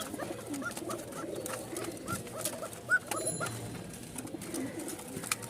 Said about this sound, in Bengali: একজোড়া বাসিরাজ ককা।